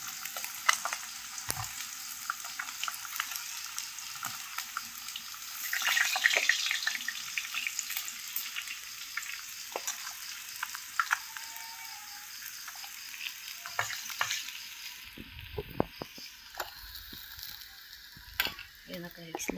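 Food sizzling in a frying pan during home cooking, a steady quiet crackle with brief louder bursts, scattered clinks and a faint watery splash near the end.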